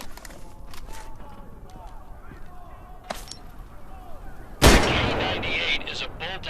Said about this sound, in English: K98 is a bolt-action rifle, so you reload by pulling and pushing the bolt after each shot.